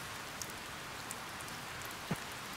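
Rain in the video game Harvest Moon: Save the Homeland, a continuous soft hiss of falling rain with a few brief drips and taps, heard alone without music or talk.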